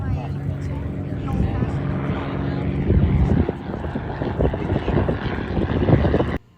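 A Fairchild Cornell propeller plane drones past at an airshow, its engine note rising and pulsing under nearby talking that continues throughout.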